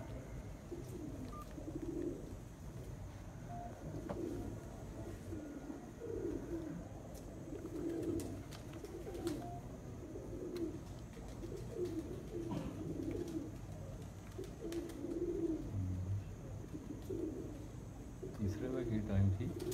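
Champion racing pigeons belonging to a breeder of Sialkot, in Punjab, sit perched and coo in a steady, repeating rhythm of low, throaty calls, moderately close, while people talk intermittently over them.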